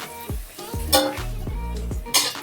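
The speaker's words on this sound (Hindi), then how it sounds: "अब इन्हें लाइट ब्राउन होने तक थोड़ा सा सौते करेंगे।" Two medium onions, chopped small, are sautéed in a pan to light brown while a utensil stirs and scrapes, giving steady clinks and scraping against a continuous low sizzle.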